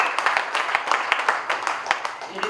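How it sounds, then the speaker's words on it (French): Wedding guests clapping in a dense, steady patter of overlapping hand claps, moderately loud and close, with a murmur of voices beneath. "Applaudissons très fort pour sa voiture."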